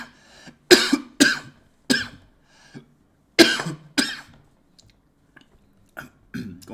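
Repeated coughing from someone ill with COVID-19, two bursts of harsh chesty coughs in quick pairs, close and loud, followed by faint throat sounds and a few weaker coughs.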